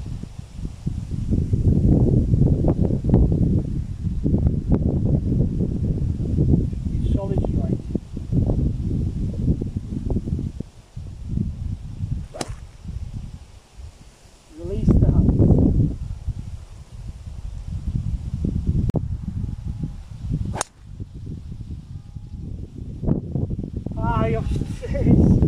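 Gusting wind on a golf course buffets the microphone in loud, uneven surges that rise and fall over about twenty-five seconds, with a few sharp clicks and rustles scattered through it.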